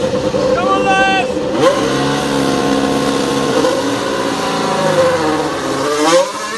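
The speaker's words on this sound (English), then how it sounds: "Let's hear a dirty engine." A Formula 1 car's engine revs hard during a practice start at the 2019 Singapore Grand Prix, a loud, sustained high-pitched whine rising and falling in pitch, with a person talking over it.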